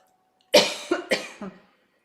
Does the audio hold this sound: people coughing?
yes